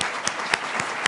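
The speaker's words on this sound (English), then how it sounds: "Can we just get a round of applause for that?" Audience applause in a New York gathering celebrating state investments: a brief, steady burst of many hands clapping together, dense and fairly loud, with a few sharper claps standing out.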